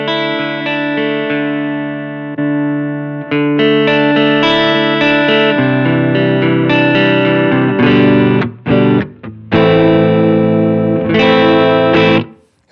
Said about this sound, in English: So when I apply the boost, the signal gets louder, but also you hear a little bit more of harmonics